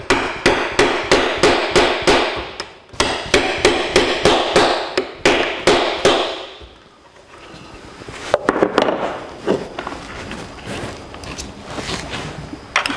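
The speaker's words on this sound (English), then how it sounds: "And tap the carriage bolt head into the wood." Hammer tapping carriage bolt heads into wooden beams for a mobile A-frame gantry crane, loud rapid bursts of close metallic blows in quick runs, pausing, then scattered lighter taps and knocks near the end.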